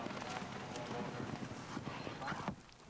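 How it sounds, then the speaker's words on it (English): A big horse gallops away strongly after coming off a bank on a cross-country course at an Irish sport horse show, steady hoofbeats blurred into dense, broadband noise of a crowd and open air throughout. "he handled coming off the bank very neatly, galloping away strongly"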